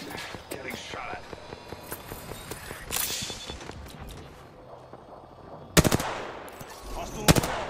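Automatic gunfire in the battle royale game Apex Legends, rapid close bursts early on, then quieter stretches broken by two sharp, loud shots near the end, with soft in-game voice lines underneath.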